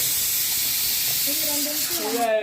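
A pressure cooker making chow chow kootu vents steam in a loud, continuous hiss, with warbling whistle tones rising in the final second.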